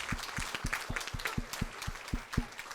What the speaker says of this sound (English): One more time, round of applause for John and Ed.